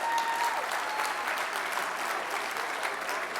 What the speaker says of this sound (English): Ladies and gentlemen, big round of applause for everybody.